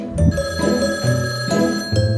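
Repeated bursts of a ringing telephone bell, loud and nearby, pulse in an even rhythm across about two seconds without voices.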